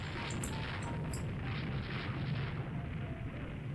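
Naval gunfire in the Rule The Waves 3 warship game, a steady rumbling barrage of distant booms with faint crackling bursts near the start, continuous and low.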